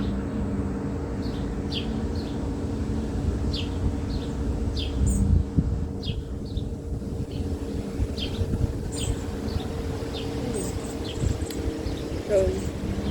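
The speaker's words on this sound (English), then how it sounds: "Y'all hear the birds?" Birds chirp repeatedly in the distance outdoors, short high calls recurring over a steady low background hum and breeze.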